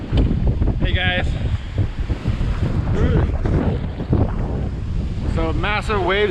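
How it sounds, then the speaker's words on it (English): Storm wind and crashing sea waves from Tropical Storm Laura on the Grand Cayman shore, a steady loud roar of gusts buffeting the microphone with surf throughout, and someone talking over it at moments. "So massive waves, as you can see."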